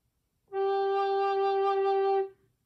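A single sustained D on an alto recorder, held steady for about two seconds with a clean, breathy pure tone, close and alone against quiet.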